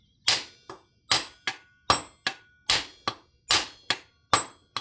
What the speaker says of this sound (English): It's sitting on this rivet. So we'll give it a couple taps with this.